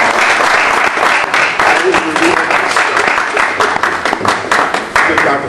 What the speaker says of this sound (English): Shaka another round of applause